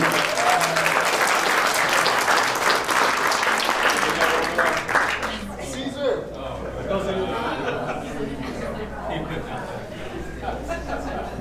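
Guests at a wedding reception break into loud, dense applause that fades after about five seconds into chatter, scattered laughter and voices in the room.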